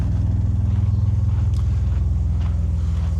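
Alfa Romeo 156 with the 24-valve V6 Busso engine idling, a deep steady throbbing rumble heard close by, smooth and even with no voices.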